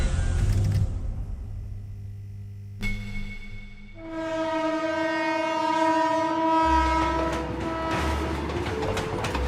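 A train passes a railway embankment on the outskirts of Kolkata, sounding a loud, sustained two-tone horn over the rumble and rattle of its wagons, close by.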